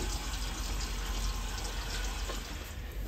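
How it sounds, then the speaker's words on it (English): Fuel poured into the fuel tank of a 1960 MG MGA 1600 Roadster, a steady close liquid rush with gurgling that runs unbroken for about three seconds. "Time to put some fuel in"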